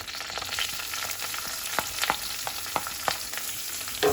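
Onions sizzle and crackle steadily in hot oil, with occasional stirring scrapes and pops, close up and moderately quiet.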